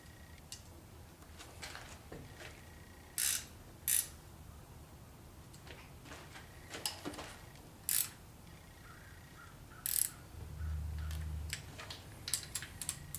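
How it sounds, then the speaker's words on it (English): A gear wrench ratchets on a Chevy 350 engine under rebuild, with a few short bursts of close metallic clicking separated by quiet pauses and light handling noise, no talking. "these gear wrenches are so nice."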